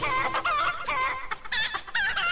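A rooster crows and clucks loudly and close by, a long wavering series of harsh, strained calls rising and falling in pitch, with no voices.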